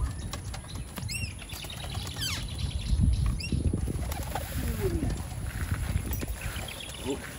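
Flapping wings of a flock of birds taking off at a racing pigeon loft, with chirps and rustling outdoors, mixed with heavy background noise.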